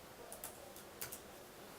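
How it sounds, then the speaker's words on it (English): A few light, quiet clicks of keys being typed on a computer keyboard, with a short run of taps and a slightly firmer press near the middle, against a faint background hum. "We can see those inside of the command line by typing ls"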